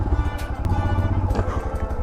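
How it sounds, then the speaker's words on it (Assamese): A Royal Enfield Himalayan Scram 411 motorcycle, its engine hot after a morning of riding, throbs with a low, close, uneven rumble that runs without a break. "ইঞ্জিন গৰম হৈ গৈছে আৰু কেৰকেৰে চাউণ্ড জানেই নহয় ৰয়েল এনফিল্ডৰ"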